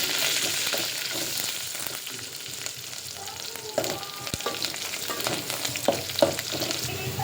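Tempering for North Karnataka-style sambar crackles and sizzles in hot oil, a dense, continuous frying hiss close by, with occasional stirring clinks and pops and no talking.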